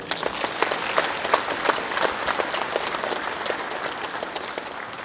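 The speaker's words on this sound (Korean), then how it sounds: "자, 여러분 박수 한번 보내주십시오" An audience at a Park Chung-hee birthday event in a gymnasium claps for the candidate's health, a dense, even crowd applause with sharp individual claps standing out, lasting the whole stretch without talk.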